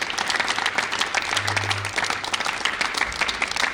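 A competition audience claps for a young spelling contestant, with dense steady applause filling the space and a low hum briefly underneath.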